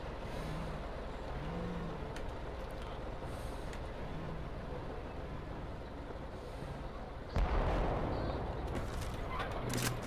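A bombing explosion in the military shooter Project Reality during a battle at Goose Green, heard as a sudden loud blast that swells out of a steady rumbling battlefield background of engines and distant fire and then lingers.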